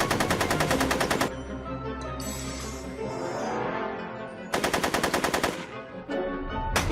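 Rapid bursts of machine-gun fire rattle loud and close, one long burst, a pause filled with other noise and echo, then a second sustained burst, with no talking.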